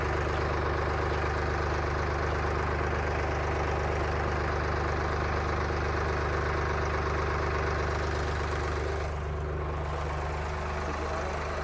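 A 22-foot Hydra crane's engine runs steadily at idle during a test drive, a constant low rumble with a slight dip in tone near the end, no talking.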